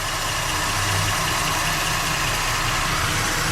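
The engine of a 2013 Ford Edge runs at a steady idle after an oil and filter change, a constant, close rumble with no breaks or other sounds.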